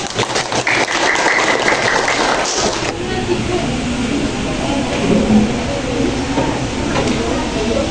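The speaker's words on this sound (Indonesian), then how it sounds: "Oke, tepuk tangan." A classroom of students clapping together in a sustained burst, loud and close, followed by a general rustling room din.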